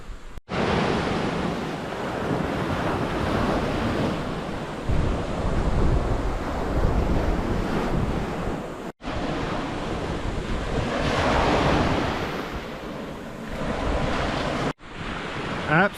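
Ocean surf and strong wind on a private beach in Boracay, a loud steady wash of waves with wind buffeting the microphone, cut by brief gaps.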